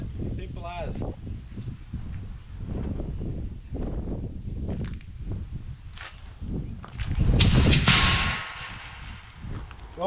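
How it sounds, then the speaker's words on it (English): A feral pig trap in sugarcane triggers and drops with a loud rushing metallic crash near the end, following a stretch of rustling and people talking. "A couple of seconds and bang, you dropped onto pigs."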